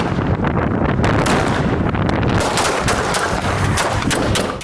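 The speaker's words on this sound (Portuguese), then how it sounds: "O vídeo que começou a circular nas redes sociais nesta terça-feira mostra a sequência de tiros." A rapid sequence of gunshots on a city avenue at night, dense cracking bursts over wind-buffeted, distorted phone-style recording, continuous and loud throughout.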